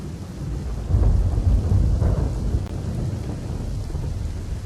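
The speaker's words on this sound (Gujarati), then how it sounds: "તો તસવીરો આવી રહી છે ભારે વરસાદને લઈને" Heavy monsoon rain falls steadily in Gujarat as deep thunder rolls through, swelling into a loud rumble and then fading back under the constant downpour.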